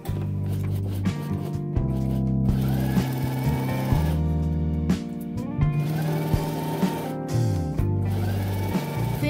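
A sewing machine stitches fabric with interfacing in a steady, continuous mechanical whir, its motor pitch shifting slightly as it speeds and slows, close and alone without talk.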